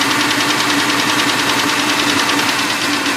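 A 2003 Ford Taurus engine runs rough and loud up close while misfiring during a spark test, a dense, steady knocking churn with no pauses.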